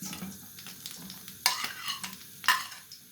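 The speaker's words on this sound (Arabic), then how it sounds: "وهننزل ال3 بصلات الشرايح اللي احنا مقطعينهم شرايح في الزيت" Sliced onions fry in hot oil with a steady, close sizzle. A couple of sharper hiss bursts rise as the onions are stirred, and faint clinks of a utensil against the pan come through. No one speaks.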